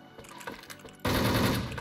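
Gunfire in the online shooter Wolfteam: a loud, dense burst of rapid automatic shots kicks in about halfway through and continues to the end, after quieter scattered game sounds.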